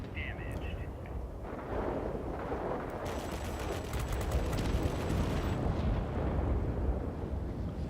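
Rapid aircraft gunfire from an F2H Banshee jet in World of Warplanes, a dense, continuous rattle of bursts over engine roar and battle noise, loud and close throughout.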